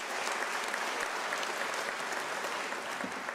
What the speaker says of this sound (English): They too, colleagues, require a round of applause.